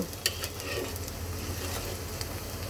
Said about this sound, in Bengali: তো দেখো আমার কিন্তু রসুনটা ফ্রাই হয়ে গেছে অনেকটা কারণ এটা অনেক চিকন চিকন পাতলা করে কাটা